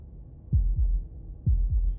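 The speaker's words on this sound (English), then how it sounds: "That was the sound of a heartbeat" A video-game heartbeat effect in Slay the Princess thumps in two lub-dub pairs, deep and heavy, about a second apart, close and alone with no talk.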